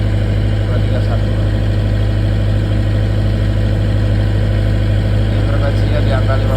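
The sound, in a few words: 40 kVA generator running under load test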